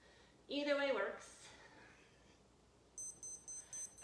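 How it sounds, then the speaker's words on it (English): An exercise interval timer sounds off after a workout set, a run of four or five short, evenly spaced high beeps, clear and fairly close, preceded by some brief voice and movement sounds. "And there's our timer."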